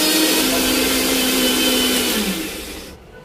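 A kitchen mixer grinds green chilli, ginger, garlic and tomato in a loud, steady whir that carries on alone for about three seconds and then winds down and stops.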